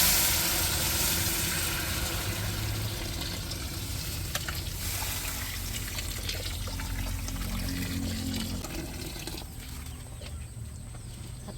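Water pours steadily into a pan of pancit canton, a continuous trickling and splashing that stays fairly even throughout, with faint background sounds.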